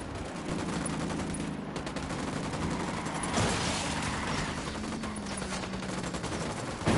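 Gunfire in the video game Ghost Recon: a dense, continuous crackle of automatic shots over a steady rumbling game background, with no talk.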